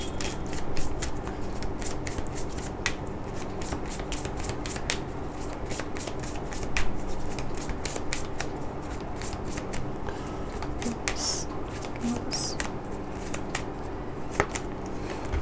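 Tarot cards being shuffled by hand in steady, repeated riffling bursts across the whole stretch, close and fairly quiet with no talking.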